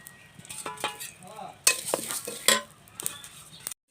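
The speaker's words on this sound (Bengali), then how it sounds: "তিসি ভেজে নেব। কড়াই গরম হয়ে গেছে," Flaxseed dry-roasts in a hot wok, with a light sizzle and rattle under repeated scraping strokes and metallic clinks of a spatula against the pan, close-up and fairly quiet.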